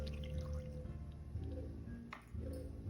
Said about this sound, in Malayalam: പൊടിക്ക് വെള്ളം ഒഴിക്കാം